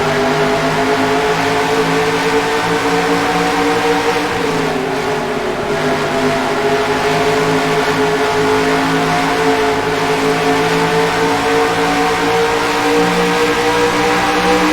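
Race cars accelerate at a restart at Homestead speedway in the NASCAR Racing 2003 video game, a loud continuous engine roar with rising and shifting pitch from a dense pack, steady throughout with no voices.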